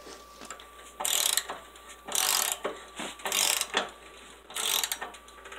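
An adjustment nut on a lawn mower deck hanger is turned with a ratcheting wrench in short bursts of clicking, several close, distinct passes with brief pauses between, and no one talking.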